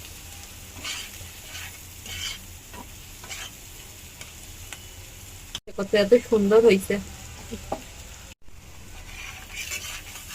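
Food seasoned with a little garam masala fries in oil in a pan, giving a low, steady sizzle with stirring scrapes, while a voice talks over it partway through.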